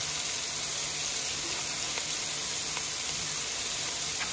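About eight crushed garlic cloves sizzle in a hot pan of oil and rings of onion, a steady bright frying hiss with faint crackles and stirring, continuous and close, with no talking.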